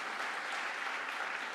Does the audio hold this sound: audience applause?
yes